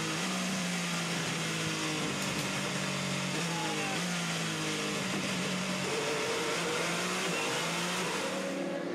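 Toyota race cars at the 2018 Le Mans 24 Hours, engines droning and rising in repeated pitch sweeps as the cars run close together, steady and moderately loud with faint commentary underneath.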